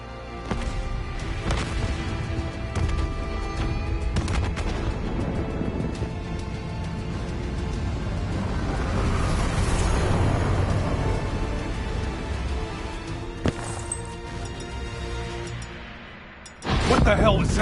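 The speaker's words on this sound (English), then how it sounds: "Hendricks, we have multiple explosions across the facility." Explosions in the Call of Duty: Black Ops 3 campaign ring out across a facility, heavy booms and crashes layered over a rumbling, sustained din, with a sharp final blast near the end.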